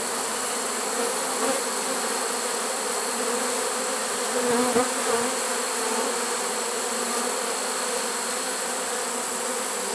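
A dense swarm of honeybees hums continuously around a swarm trap in September, a steady close, loud buzz with no pauses and no voices.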